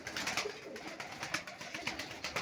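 Pigeons coo softly in repeated low, throaty phrases over a dense, constant background of rustling and chatter, with no one speaking.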